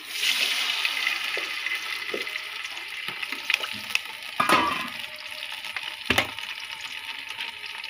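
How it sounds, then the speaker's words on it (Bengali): Water is poured into a hot biryani pot, setting off a loud, steady sizzle and frying hiss close by, with a few clinks and stirring bumps scattered through it. "এখানে একটু পানি দিয়ে দিলাম।"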